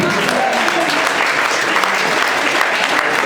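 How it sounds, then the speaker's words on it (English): Applause for a guest at an entrepreneurs' gathering, a loud, steady wash of clapping from a crowd with voices mixed in, running through the whole stretch. "give him a round of applause"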